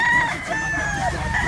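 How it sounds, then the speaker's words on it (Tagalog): Roosters crow and chickens cluck at a gamefarm in Mantalungon, Barili, south Cebu, with layered, drawn-out calls overlapping throughout, loud and close. "pinapakita ko yung kanilang mga pulang manok"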